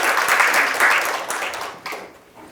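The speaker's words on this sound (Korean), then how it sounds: "다시 한번 큰 박수 부탁드립니다" An audience at a Korean academic discussion forum applauds steadily, a dense wash of clapping that swells and then fades out toward the end.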